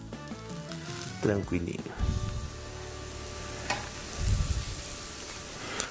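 Garlic bread frying in a pan for bruschetta, a soft continuous sizzle with a couple of louder bursts as pieces shift, heard under a person talking.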